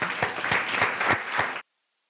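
A brief burst of audience applause at a law clinic launch event, dense clapping with a few sharper claps standing out, then cutting off abruptly into silence.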